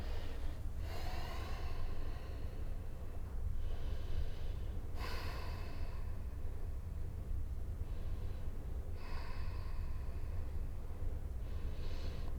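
Slow, deep breaths during a yoga session come in repeated long inhale and exhale waves about every two seconds, close and fairly quiet over a low hum, with no talking.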